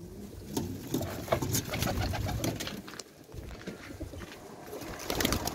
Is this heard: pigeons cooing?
yes